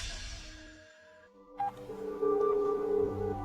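A telephone is dialed, a brief beep followed by a steadier tone, close and fairly clear, after a quieter stretch of background noise.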